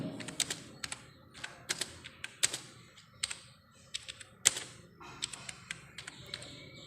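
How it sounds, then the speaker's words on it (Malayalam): Typing on a computer keyboard while writing a Python line in a Windows editor: quick clusters of crisp key clicks with short pauses, close and distinct, with no talk. "Python is A high level language എന്ന് ടൈപ്പ് ചെയ്തു"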